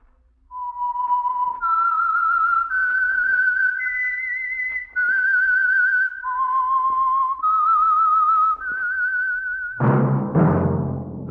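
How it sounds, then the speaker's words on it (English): The whistled theme of the radio program The Whistler: a melodic tune of sustained notes stepping up and down, clear and close, ending in a sudden burst of louder noise. "That whistle is your signal"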